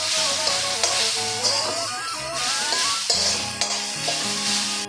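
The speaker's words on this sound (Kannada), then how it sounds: "ಈಗ ಟೊಮೆಟೊ ಕೂಡ ಸೇರಿಸ್ಕೊಳ್ತಾ ಇದ್ದೀನಿ" Grated coconut and tomato fry in a pan, a loud continuous sizzle with repeated scraping stirs and clinks from a spatula, no speech.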